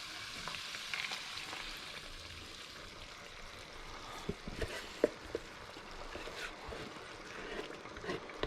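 Chicken simmers in caramel sauce for Vietnamese ga kho, giving a soft, steady sizzle and bubbling with occasional small pops and spoon clicks, close by and with no speech.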